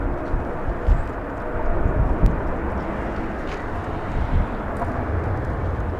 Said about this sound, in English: We'll take a look at that 777 as it battles the crosswind